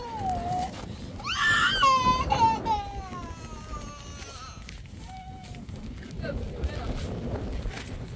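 A young girl, frightened by a sudden strong gust on a rainy day in the Iranian mountains, bursts into a loud wailing cry. It then trails off into whimpers over wind noise and rustling.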